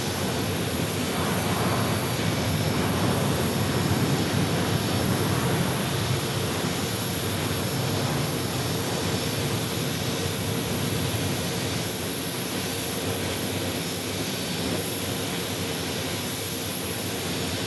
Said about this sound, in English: That's 737-700.